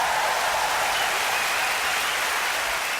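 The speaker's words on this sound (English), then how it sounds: "They're cheering me on." Crowd applause and cheering, a steady, dense wash of clapping that holds at an even loudness throughout without pauses.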